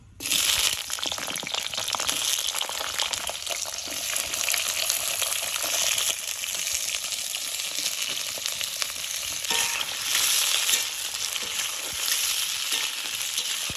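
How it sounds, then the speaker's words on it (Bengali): Teasel gourd (kakrol) frying in hot oil after potatoes were fried in it, a dense, steady sizzle and crackle that stays loud and close throughout with brief stirring scrapes. "এবার এই তেলে কাঁকরোল দিয়ে দেবো"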